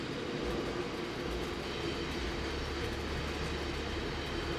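A coal train rolls along the rails in the railway-building game Infinite Rails, a steady, continuous rumble with low drone that holds even and unbroken throughout, with no one talking.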